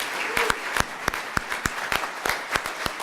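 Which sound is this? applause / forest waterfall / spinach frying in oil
applause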